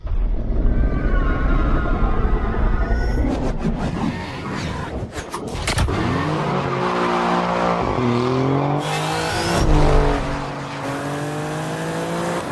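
Alfa Romeo Giulia Quadrifoglio in race mode, its engine revving hard and rising through gears with loud whooshes and shifts, a brief tire squeal, close and no talk.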